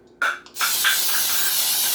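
A short spritz followed by a steady, hissing spray from an aerosol can of cooking spray onto a pan that continues without a break.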